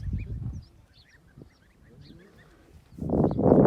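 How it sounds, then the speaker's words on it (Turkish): Geese honk in loud, harsh bursts at the start and end, with faint chirping in the quieter stretch between. "Ördek yavrusu. Kaz, kaz."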